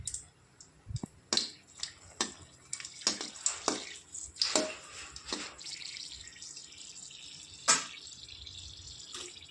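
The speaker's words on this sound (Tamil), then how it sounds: "கடுகு நல்லா பொரிஞ்சு வந்துடுச்சு" Mustard seeds splutter in hot oil for appalam kuzhambu, giving a scattered run of sharp, fairly quiet pops and crackles that come irregularly and thin out toward the end.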